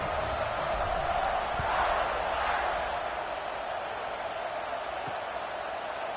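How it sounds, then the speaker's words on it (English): A stadium crowd in the College Football 26 video game cheers and roars in a steady, loud wash during a kickoff. A commentator talks over it. "this crowd is feeling themselves after that last drive."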